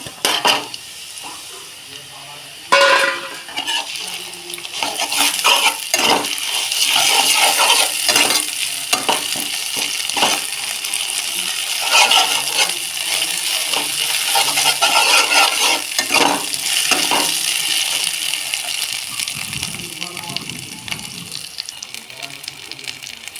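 Taro leaf paste stirred continuously in a hot pan, a steady sizzle with repeated scraping strokes and occasional clinks of the spatula, close and loud.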